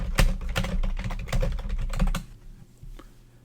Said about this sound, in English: This brings up a box where you can type in your note text.